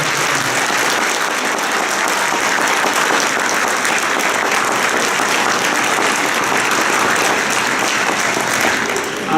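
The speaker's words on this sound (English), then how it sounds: "Let's have a nice round of applause for Oscar Mira." Audience applause at a ceremony after a name is called, dense sustained clapping from a crowd that holds steady for several seconds.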